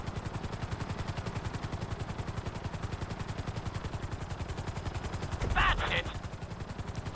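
Helicopter rotor thumping steadily in Grand Theft Auto V, a fast continuous chop throughout with a brief louder burst near the end, while a player talks over it.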